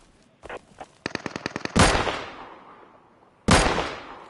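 Automatic fire from an AKSM rifle in the video game Deadside: a single shot, then a rapid burst of about seven rounds, followed by two heavier booming shots with long decaying tails, loud and close with no talk.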